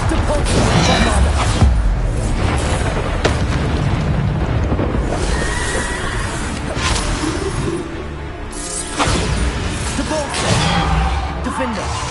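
Bombarda and Depulsor spell blasts in Hogwarts Legacy combat, an unbroken series of loud explosive booms and whooshing impacts, with a voice shouting spell names over the fight.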